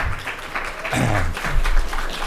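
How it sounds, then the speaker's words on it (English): Smattering of applause from an audience at an awards nominations announcement, a thin, scattered patter of clapping heard in the background under a voice. "Yes, smattering of applause."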